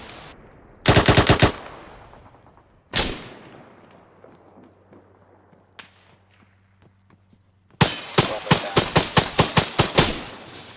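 Gunfire in the video game Arma 3: a sharp burst of automatic rifle fire, a single loud shot, then quiet, then a longer rapid volley of cracks near the end.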